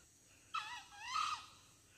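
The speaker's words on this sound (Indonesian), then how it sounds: "Saya sepertinya mendengar suara ayam hutan" A wild jungle fowl gives a single faint, distant call with two drawn-out strained notes from forest on the southern side of Mount Lawu, heard alone against quiet background.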